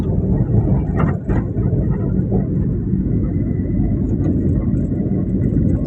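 A car drives at night on the Hatirjheel road at about fifty, with a steady, loud, low engine and road rumble inside the cabin and no talking.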